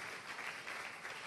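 A church congregation applauding loudly and steadily, a dense continuous wash of clapping with no distinct individual claps standing out.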